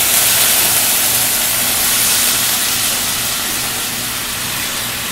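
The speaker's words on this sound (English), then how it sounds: "So it's sizzled a little bit, which means it's ready to cook" Marinated beef strips sizzling loudly in a hot pan for beef and broccoli, a dense, steady hiss that stays constant throughout, close up, with no talking.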